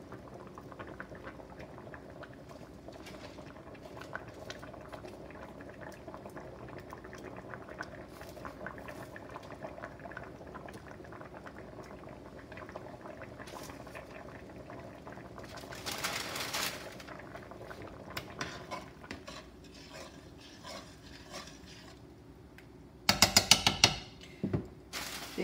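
Chicken and dumplings simmer in a pot with faint, steady bubbling close by, broken by brief bursts of louder clatter and rustle toward the end.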